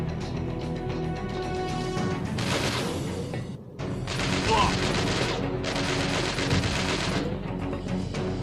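Rapid gunfire bursts from an AK-style rifle in the video game Chernobyl Underground, loud and dense, with a short gap near the middle before the shooting resumes.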